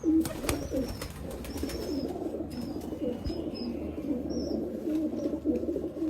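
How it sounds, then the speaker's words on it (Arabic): Pigeons in a loft give continuous low, throaty cooing from several birds close by, with occasional faint chirps over a steady background hum. "هاي الطيور مثل ما تشوفوا، الطيور كلها قافلة"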